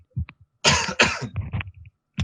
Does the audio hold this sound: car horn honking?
no